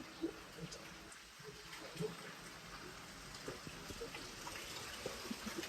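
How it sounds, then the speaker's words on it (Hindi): Water flowing down from above at a hillside temple in dense forest, a steady broadband gush and splash with faint background activity. "ये ऊपर से आ रहा है पानी।"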